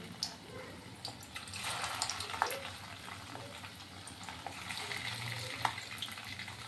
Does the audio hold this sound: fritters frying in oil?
yes